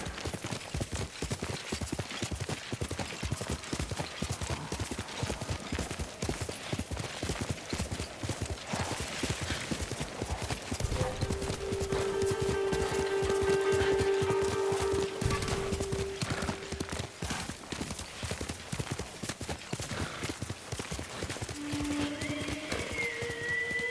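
Horse in the Ghost of Tsushima video game, hooves clip-clopping in a fast steady rhythm throughout, with a drawn-out whinny rising midway over the running footfalls.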